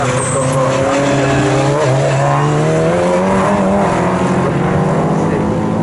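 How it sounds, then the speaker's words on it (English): An Aston Martin V8 Vantage GT2 race car runs at Snetterton, its loud engine droning steadily with rising and falling harmonic tones as it travels down the pit lane. "The GT2 car is now going down the pit lane"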